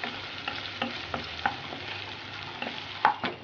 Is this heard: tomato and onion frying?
yes